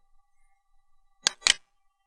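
Two crisp computer mouse clicks land about a quarter second apart, made while following a link on a web help page. They are close and fairly sharp against near silence, with a faint steady hum and no talking.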